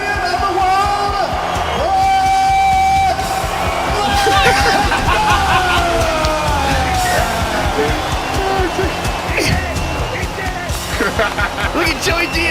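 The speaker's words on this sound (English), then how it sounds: "That's Joey screaming" A man screams and yells amid a loud, cheering crowd at a heavyweight fight event, his voice rising in sustained shouts over dense crowd roar and hubbub throughout.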